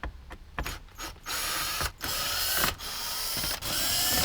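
Screws come out around the Alpine head unit in the dash of a 2018–2023 JL Wrangler, with short close mechanical whirring and ratcheting bursts broken by brief pauses.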